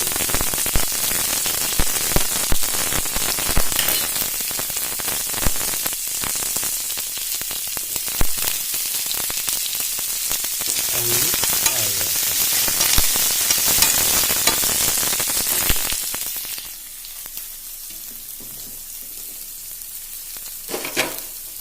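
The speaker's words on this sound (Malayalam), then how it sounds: "ഇപ്പം തന്നെ നമുക്ക് ഈ സവോള അരിഞ്ഞു വെച്ചത് കറിവേപ്പിലയും കൂടി ചേർത്ത്" Chopped onions and curry leaves fry in a pan for a bitter gourd masala curry, giving a loud, dense, continuous sizzle that fades sharply near the end, leaving only faint crackle.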